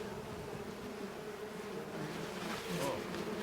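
A steady, low hum of a bee colony buzzing close together, continuous and even throughout, with no voices.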